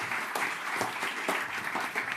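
An audience at a French medtech business evening applauds, dense steady clapping from a crowd heard at moderate distance for a few seconds.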